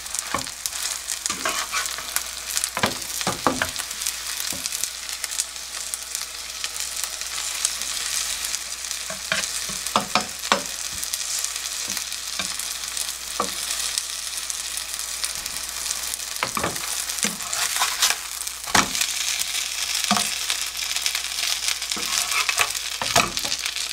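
Marinated beef for burdock and beef skewers frying in a nearly dry pan over lowered heat, a steady close sizzle with frequent sharp pops and occasional stirring scrapes.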